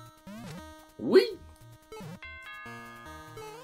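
A two-note ding-dong doorbell chime from the video game Super Mario Maker 2, bright and clear over the game's busy background music, with a short burst of noise in the middle of the chime.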